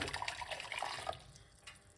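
Hot water poured into a medium-sized pot, a soft splashing trickle for about a second before it tapers off, close and quiet, with no talk.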